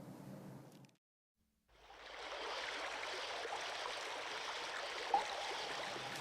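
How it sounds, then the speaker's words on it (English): A raging river rushes nearby, its dense, steady roar swelling in after a brief silence and holding constant, loud and unbroken, with no voices. "The sound of the raging river is very near and serves as my guide"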